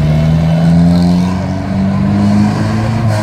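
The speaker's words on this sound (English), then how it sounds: "Here you can see all the buses leaving." City buses pulling away, their diesel engines giving a steady, loud low drone with slowly shifting pitch as they accelerate off.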